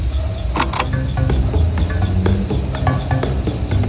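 An elevator descending in a FNAF Sister Location Minecraft animation hums low and steadily, with creaking mechanical clanks, a sharp metallic rattle near the start and scattered ticks, and no talking.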